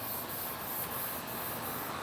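An aerosol spray hisses onto a large round ocean-scene resin artwork in a continuous, close, bright stream, with faint regular ticks marking short bursts.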